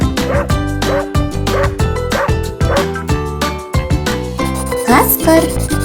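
A puppy gives a steady run of high, close yips with short whimpering cries between them, loud and without any talking.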